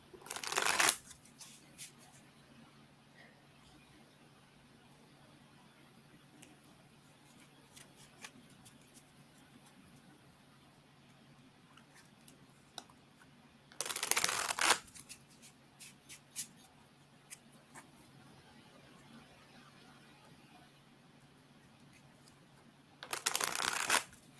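Cards are shuffled in quick riffling bursts, with near silence in between and faint handling noises.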